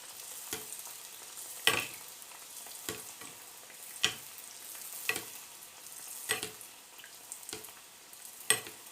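Oil heats in a pan for frying msemen, producing a faint background sizzle punctuated by repeated sharp crackles and spits every second or so, close and quiet with no speech.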